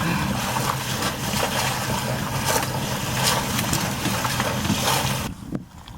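Strong wind buffets the microphone aboard a sailboat in rough weather, a loud continuous rumbling roar with gusty surges, dropping away abruptly near the end.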